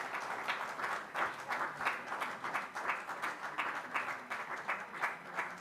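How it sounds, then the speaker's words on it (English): An audience applauds steadily, dense rhythmic clapping from many hands that holds for several seconds with no pause. "give them applause"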